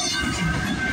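Canadian Pacific freight CP 237 rolls by late at night at Guelph Line, Mile 38, on the Galt Subdivision, a close, steady rumble of rail cars with a faint high wheel squeal, and no voices.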